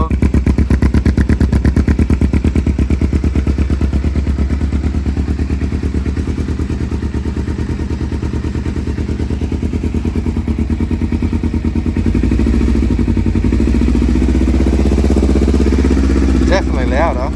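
Kawasaki Ninja 250 motorcycle, still cold, idling with a fake Yoshimura R77 slip-on exhaust and silencer fitted, a loud, close, rapid low-pitched burble that holds steady, then roughens and swells toward the end.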